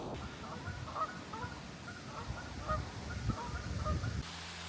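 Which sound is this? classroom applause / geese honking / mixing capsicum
geese honking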